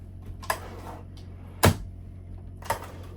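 Drawers in a Holiday Rambler RV interior being worked, giving three separate close wooden clunks, the middle one loudest, with quiet pauses between.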